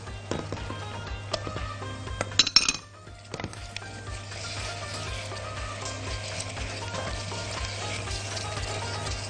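Butter, sugar and cream melting in a pan over low heat: soft sizzling with scattered clinks of a utensil against metal, one brief clatter partway through, then gentle steady bubbling.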